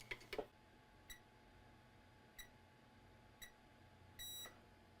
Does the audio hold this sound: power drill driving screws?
no